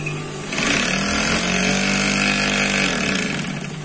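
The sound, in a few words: sewing machine running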